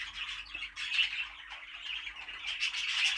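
Show-team birds squawk and chirp continuously in a loft, a dense, shrill chorus of overlapping calls that swells and fades, fairly close and with no talking.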